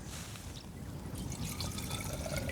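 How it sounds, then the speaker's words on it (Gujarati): Water is poured a little at a time into two 500 ml containers while mixing a farm spray for a cumin crop outdoors, a short close splashing trickle. "નાખ પાણી નાખ થોડું થોડું, 2 ડબલામાં નાખ દે"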